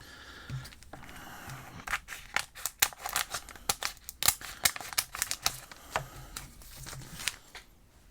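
Scissors cut through thick black cardstock in a series of crisp, sharp snips, loud and close, with no talk over them.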